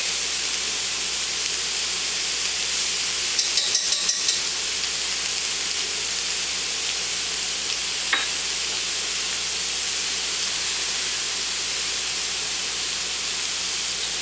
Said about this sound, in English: we're going to stir in our garlic